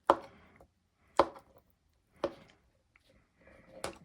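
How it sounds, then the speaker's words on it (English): A knife strikes a cutting board four times at slow, even intervals while chopping boiled eggs for egg salad, each chop a sharp, close knock followed by quiet. "we're just going to just kind of chop it up into small pieces"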